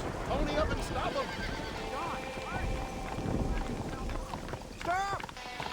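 In the video game Red Dead Redemption, a horse whinnies a few times over hoofbeats and a busy outdoor background, with a voice speaking in places.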